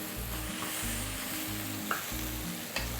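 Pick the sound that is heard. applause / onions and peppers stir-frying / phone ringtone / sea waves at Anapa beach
onions and peppers stir-frying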